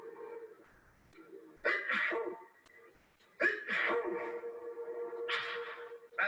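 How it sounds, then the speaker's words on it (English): A person sneezes into a handkerchief twice in quick succession, and each sneeze comes with sharp breathy bursts and a throaty strain before it. "for this final test, he's sneezing in blue"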